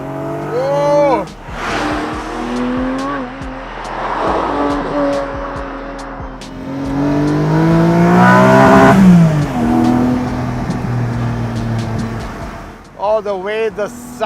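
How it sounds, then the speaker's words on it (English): A Porsche 718 Spyder's flat-six engine revs hard through rising and falling sweeps, loud and close, and the sound echoes off surrounding hills. A voice exclaims briefly near the end. "sound of this flat six just bouncing off the hills"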